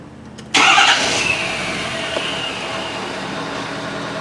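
A Ford 6.7L diesel engine cranks and fires abruptly, then settles into a loud, steady idle with a constant rumble and high whine, close by and with no talk.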